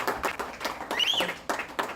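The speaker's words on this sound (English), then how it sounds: "So please give them a big round of applause" Small audience at a Republican-leaning gathering clapping in scattered, separate hand claps with uneven gaps, fairly close and sparse rather than a full ovation.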